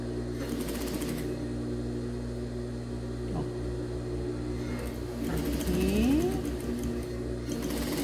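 A sewing machine stitches a finishing seam along the edge of a baby bodysuit, a close, steady mechanical whirr with a rhythmic needle patter that pauses and restarts briefly partway through.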